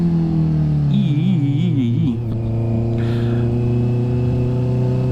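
A Honda CBR 650 motorcycle with an e-clutch hums along at low city speed, a loud, steady engine drone with rising and falling pitch as it is ridden, heard up close without talk.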